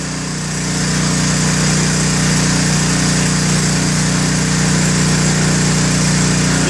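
Pump on a waste oil furnace drawing oil up the suction pipe: a loud, steady motor drone with a strong low hum that swells slightly after the first second and then holds even throughout, with no talk.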